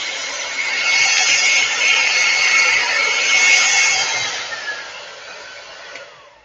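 A hair dryer blows cold air over a watercolor painting of water in a glass jar in a loud, steady whoosh with a faint high whine, then winds down over the last couple of seconds.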